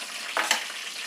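Spices tempering in hot oil for palak keerai rice let out a brief, bright crackle and a couple of sharp pops over a close, continuous sizzle.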